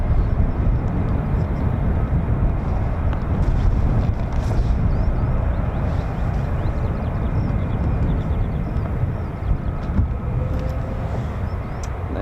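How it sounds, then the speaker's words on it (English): Military jets taxiing at RAF Lakenheath, home of the 48th Fighter Wing's F-15s and F-35s, give a steady, loud, broadband engine roar that holds throughout, mixed with wind buffeting the microphone. "So aircraft taxiing already"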